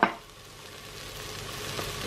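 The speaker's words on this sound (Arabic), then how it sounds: "شوفوا كي الثوم تاعي تقلى" Garlic frying in a pan for a traditional beef-tongue shtitha, a steady soft sizzle with a brief clatter at the start and a small stir near the end, close and continuous.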